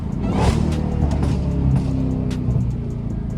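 A Dodge Hellcat's engine rumbles and revs up close during a paddle-shifter test, a deep steady growl with a brief rise in pitch.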